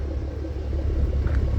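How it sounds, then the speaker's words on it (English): A 2011 Mustang V6 fitted with GT Roush axle-back mufflers gives a low, steady exhaust rumble, moderately loud and continuous for a short stretch with no talking. "And actually the muffler sounds pretty decent."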